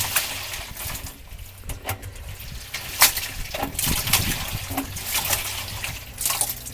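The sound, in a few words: Hoover toy washing machine sloshing water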